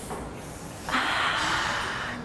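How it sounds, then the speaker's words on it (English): One deep breath is drawn in through the nose and then released as a long, airy exhale, close and fairly loud during a calm breathing exercise. "We take a deep breath."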